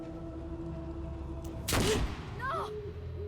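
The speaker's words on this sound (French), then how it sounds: "C'était un coup de feu, ça." A single sharp gunshot cracks out over a steady electronic hum in the video game Life is Strange: Double Exposure, followed by a brief higher-pitched sound as the echo fades.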